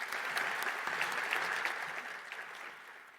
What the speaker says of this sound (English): A big round of applause for Kaya.